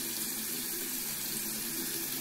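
Water runs steadily into a bathroom sink and splashes while someone washes their face with a round eczema soap bar, a continuous close wash of liquid with no voices.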